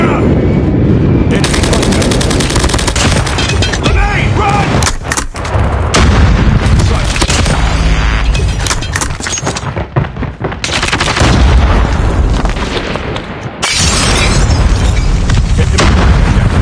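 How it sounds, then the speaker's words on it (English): Dense gunfire and repeated booming explosions from an airstrike in the mobile shooter Call of Duty Mobile, during a multiplayer ranked match, run loud and almost unbroken, with a few brief lulls between bursts. "Friendly airstrike incoming."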